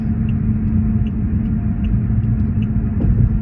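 Steady low rumble of a car driving in traffic, heard from inside the cabin, a constant close engine and road drone with no talking.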